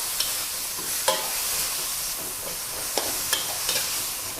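Minced pork and mixed sauce stir-fry in a hot pan with a steady bright sizzle, broken by a few sharp scrapes and clacks of the spatula, close and with no talking.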